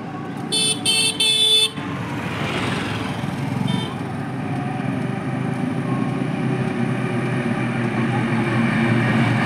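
A vehicle on a national highway near Garhwa sounds several short horn blasts at the start. The blasts give way to a steady engine and road rumble that stays loud and close throughout.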